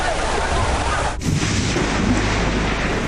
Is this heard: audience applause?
no